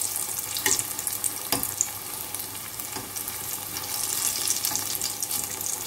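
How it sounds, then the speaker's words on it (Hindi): Moong dal and onion pakoras frying in hot oil, a soft, continuous sizzle and crackle with a few sharper pops and clinks, heard close and fairly quiet. "पलट पलट के इसे फ्राई करेंगे"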